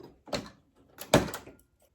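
The metal coin door of a pinball machine is swung shut in two quick thunks, a lighter bump followed by a firmer latching clunk, close by with no talk.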